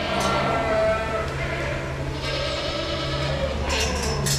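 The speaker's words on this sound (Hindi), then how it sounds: "हमारी बकरी वीडियो बनवा रही है" A goat bleats on a farm amid steady outdoor background noise, its wavering cries carrying over a constant low hum, with a faint human voice in the mix.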